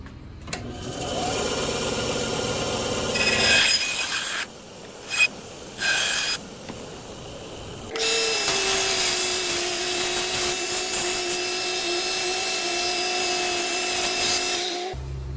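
A 1911 pistol holster being worked with a power sander, a steady whining machine drone that cuts in and out, with short pauses before running loud and continuous to the end.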